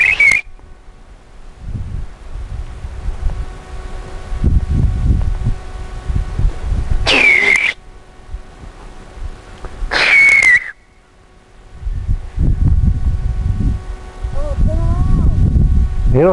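Three short, sharp whistles, made to get a groundhog to stand up, ring out spaced several seconds apart, between stretches of low wind rumble and faint rustling outdoors.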